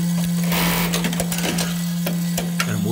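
Juki LK1903BN button sewing machine with robotic button loader running, a steady mechanical hum with rapid rattling stitch bursts and clicking feed movements, close and continuous.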